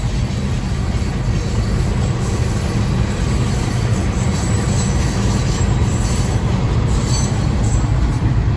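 Freight train of fuel tanker cars rolling past close by in Rhome, Texas, a loud, steady rumble of wheels and rail noise with faint squeals throughout.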